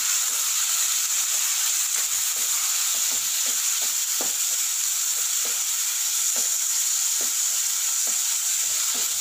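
Tomatoes sautéing with green chilies in a pan for a jackfruit seed gravy give a steady, close sizzle, broken by regular soft clicks of stirring, with no talking.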